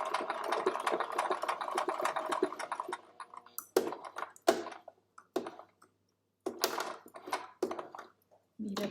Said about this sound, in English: we're going to sew right down to the place where we started